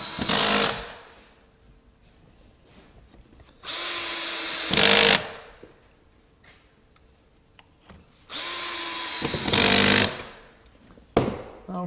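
A power drill drives screws into a newel post cap in two loud whirring bursts, each ramping up as the screw seats, separated by quiet gaps with faint background noise.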